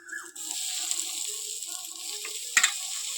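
Onion paste fries in a pan for Bengali katla fish kalia, a steady bright sizzle with soft stirring scrapes and a brief clatter near the end.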